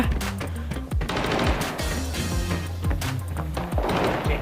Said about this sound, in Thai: ข้างบนข้างบนยิงกันอยู่สองสามตัว